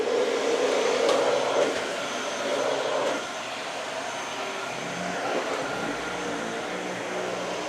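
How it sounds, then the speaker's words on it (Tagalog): A steady motor whine with airy broadband noise runs throughout, loud at first then easing slightly, like a vacuum cleaner running nearby. "So, maingay ang vacuum ko,"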